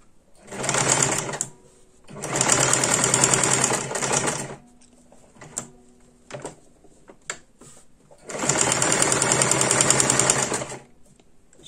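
A sewing machine stitches satin pieces for mosaic patchwork, running in three loud close bursts of rapid mechanical chatter separated by pauses filled with small clicks and handling knocks.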